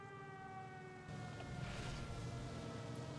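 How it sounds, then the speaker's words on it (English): A steady air raid siren at an airfield in a flight video game wails in the distance, its sustained tone holding under a rising engine drone. "Let's get away from this airfield because it's got that air raid siren going on."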